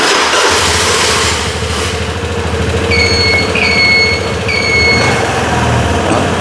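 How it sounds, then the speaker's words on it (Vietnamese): A Piaggio Liberty scooter engine idles steadily and close after starting, a low mid-pitched putter with a few electronic beeps partway through. "nổ máy lên trên này mình nghe thử cái ha"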